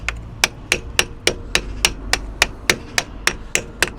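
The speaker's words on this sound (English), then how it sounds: "an old chisel just to see if I can get this bit of corrosion off these edges" An old chisel is hammered against corroded wheel edges in a dozen or more sharp metallic blows at an even, steady pace, each one close, loud and ringing briefly.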